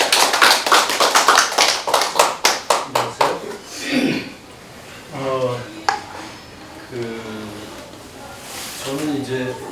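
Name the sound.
audience applause welcoming the speaker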